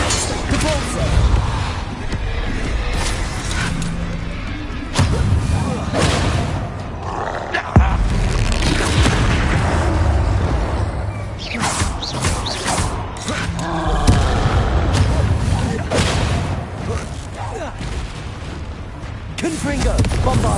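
Spell explosions from Confringo and Bombarda casts in Hogwarts Legacy, with repeated booming blasts and crackling bursts following one another through a dense, loud combat mix, with voices in the background.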